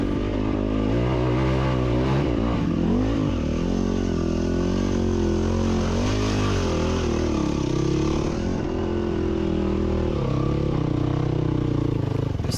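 An enduro motorcycle trail riding over rough, rocky terrain at Sand Hollow, its engine droning loud and close throughout, with revs rising and falling and some clatter from the bike over the ground.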